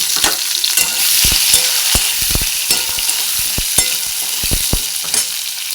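Cumin seeds and chopped green chili crackle and sizzle in hot oil for a vegetarian potato and soybean curry, a steady close frying hiss broken by frequent sharp pops and spatters.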